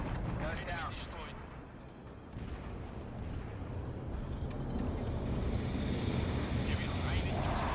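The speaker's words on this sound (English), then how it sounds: "Calling in airstrikes." Airstrike explosions in the video game World in Conflict rumble as a dense, booming wash of blasts and aircraft noise, building steadily louder, with a voice talking over it.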